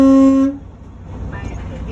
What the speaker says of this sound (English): My air horn is working properly.